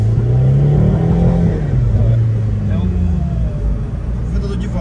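A Mini Cooper sports car drives and accelerates on a road test, its engine note rising and falling steadily throughout, close and loud, with someone talking over it.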